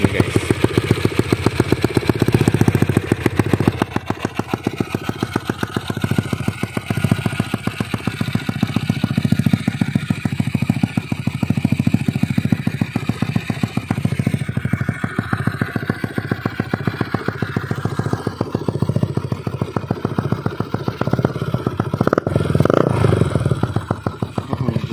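A motorcycle engine idles and runs steadily nearby, a continuous loud mid-pitched rumble with a throbbing pulse that holds for the whole stretch without a break.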